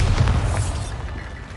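A Bombarda spell explosion in Hogwarts Legacy gives a short, deep boom with a rumbling low-end tail that fades gradually over a second and a half.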